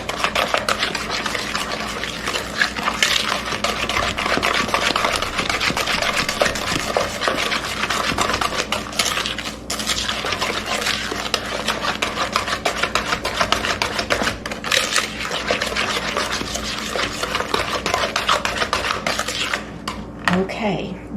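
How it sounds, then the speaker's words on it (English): Butter, brown and white sugar and eggs mixed for cowboy cookie dough, a continuous close scraping and clattering of utensil against bowl with no speech over it. "And you just want to mix this together until it's smooth."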